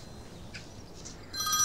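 A telephone starts ringing near the end of a short, quiet stretch, a brief faint ring in a scene from a Turkish comedy series, with no voices.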